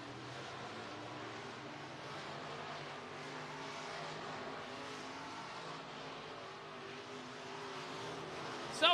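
Group of eight race cars at Boone Speedway in Boone, Iowa, heading out for group qualifying: a steady, distant engine drone that carries on without letup, fairly faint, with a short sharp burst at the very end.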